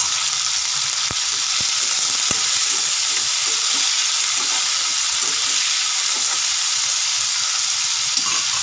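Onion and tomato sizzle steadily in a hot pan as they are mixed, a constant close frying hiss with a few soft spoon taps and scrapes.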